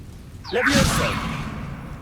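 A Levioso spell is cast in Hogwarts Legacy, a single magical whoosh that swells quickly and trails off over about a second, close and moderately loud over a soft background.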